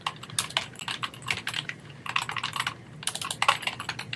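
Rapid, irregular computer keyboard typing while signing into a library admin account, close and clear, with bursts of keystrokes separated by brief pauses and no talking.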